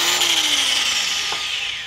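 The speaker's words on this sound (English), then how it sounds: "I don't think I've used this drill since the last time I used it for this hole saw." A powerful handheld drill fitted with a hole saw runs at full speed, a loud, close, high whine whose pitch sags slightly as it bites in, then eases off near the end, with no talking.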